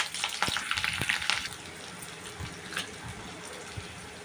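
Cardamom and green chillies fry in a pan while being stirred for tomato rice, a low sizzle with a few sharp scrapes and clatters near the start, then a quieter hiss with occasional knocks.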